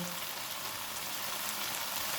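Beef masala frying in a pan over a medium flame, giving a steady, close, dense crackling sizzle that stays even throughout with no voices.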